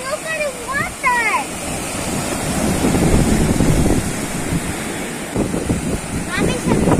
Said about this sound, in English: Ang sarap pakinggan ng waves.